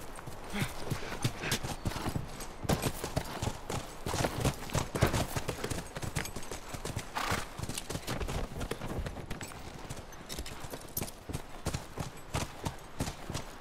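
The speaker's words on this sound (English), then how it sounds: "Come on, back to the horses." Rapid, continuous clip-clop of horse hooves in The Last of Us, several horses trotting close by without a break.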